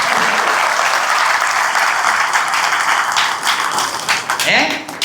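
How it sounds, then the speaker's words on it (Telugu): An audience at a Telugu talk in Nirmal, Telangana claps for themselves, giving a dense, steady wash of applause that carries through the whole stretch and thins slightly near the end. "మీకు నేను ఒక్కరినే చప్పట్లు సరిపోదు అందుకని మీకు మీరే కొట్టుకోండి"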